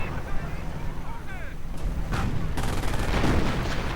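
Artillery fire in the World War II strategy game Company of Heroes during a 2v2 match, a cluster of deep rumbling blasts and crackling explosions building in the second half, with a commentator's voice talking over the battle.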